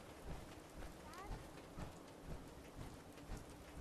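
Rain falls steadily in the video game Fallout 4, a continuous, fairly quiet hiss with faint low rumbles beneath.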